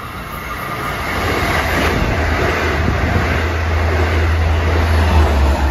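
A Long Island Rail Road train, number 557 from Oyster Bay to Jamaica, passes Elmont station: a rising broadband roar with a low rumble building as it approaches and sustains close by.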